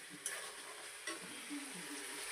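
Meat fries in oil, a close steady sizzle with a few sharp stirring scrapes.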